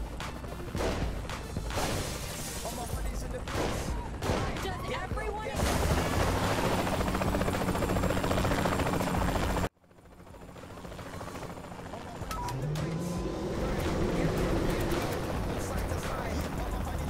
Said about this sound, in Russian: Куда собрался этот тип на вертолете?